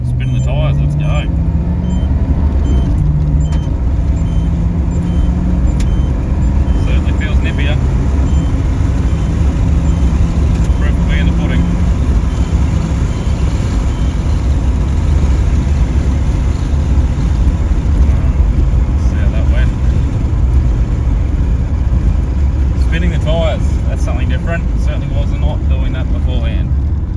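A Holden HX Monaro limited edition coupe engine revving hard and accelerating from 0 to 100 km/h with tyres spinning, a loud sustained roar rising through the gears while people talk over it.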